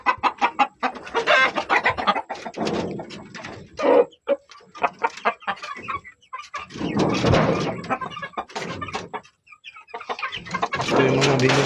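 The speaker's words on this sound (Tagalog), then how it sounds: "Ito yung mga manok niya." Gamefowl on a game farm cluck and call in irregular bursts from close by, with a rooster's crow among them and short quiet gaps between the outbursts.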